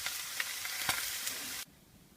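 Beef browning over a fireplace grill gives a steady bright sizzle with a few soft pops and crackles, close and continuous, before it cuts off abruptly near the end.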